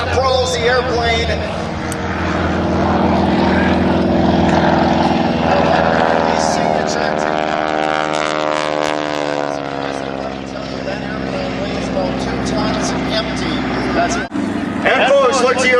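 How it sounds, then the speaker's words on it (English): A T-6 Harvard propeller airplane flies aerobatics at an airshow, its loud droning engine and propeller roar swelling and shifting in pitch through a snap roll, continuous and close, with an announcer talking over it. "pulls back on the stick and snap rolls the airplane."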